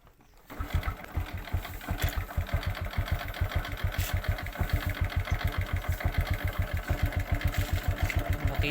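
A motorcycle engine cranks and catches right away, then settles into a steady, close, rapid idle that carries on without a break.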